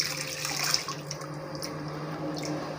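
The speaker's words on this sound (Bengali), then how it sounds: "তো ছোলাগুলো আমি দিয়ে দিচ্ছি" Soaked chickpeas are poured into water in a wok, a close, continuous splashing and watery rush with a few small plops and drips, quiet and without talk.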